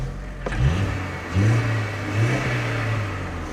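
A VW Polo engine, a cheap car with a chugging fault that struggled to start, runs close by, with two quick revs rising in pitch over a steady idle and no talk.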